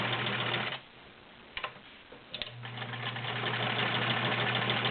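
An older Kenmore 1516 sewing machine with cams stitches through five layers of rubber-backed woven upholstery, a close, loud motor whir that stops briefly for about two seconds with a few clicks, then runs steadily again.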